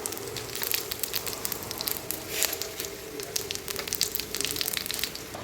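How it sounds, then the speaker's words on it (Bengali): Whole cumin, cinnamon, dried chilli, cardamom and cloves sizzle in hot oil, giving a soft, steady crackle with scattered pops and spits, fairly close and even in level, with no voices. "তো তেলের মধ্যে ফোড়ন দিয়ে নিলাম।"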